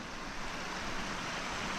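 A stream near a campsite on the Pacific Crest Trail flows with a continuous soft hiss and gurgle, steady and moderately quiet, with no voices.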